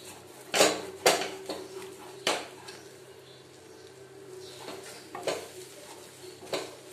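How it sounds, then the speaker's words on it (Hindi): A metal spoon scrapes and knocks against a pan while stirring a thick milk peda mixture, giving several sharp clinks spaced irregularly over a low steady background, close and fairly loud. "इसी तरह इसमें लगातार चम्मच चलाते रहना है।"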